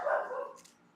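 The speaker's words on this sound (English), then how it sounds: "And that's my dog." A pet dog gives a short, faint bark or yip close by in a quiet room during a card game, a single brief burst with no talk over it.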